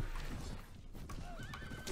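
Horses neigh and hooves clatter in a crowded melee of horse archers in the video game Prophecy of Pendor, with whinnies rising over a dense mass of battle noise and hoofbeats at moderate distance.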